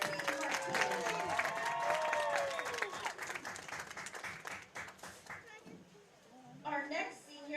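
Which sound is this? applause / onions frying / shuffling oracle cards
applause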